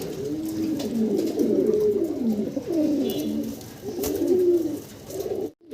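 A pair of Sherazi pigeons cooing in soft, repeated rolling phrases, close and fairly quiet, with no talk over them.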